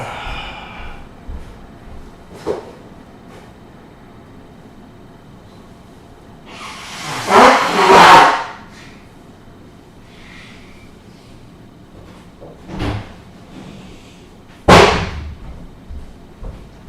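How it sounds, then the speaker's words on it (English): A person blows their nose in a few loud, breathy honks, the longest burst in the middle followed by a sharper one later, with quiet pauses between. "I need to blow my nose."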